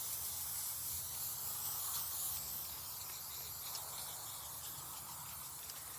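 Matte finish lacquer sprayed from a can over a DIY craft lighthouse, a steady, close hiss that runs unbroken and even for the whole six seconds.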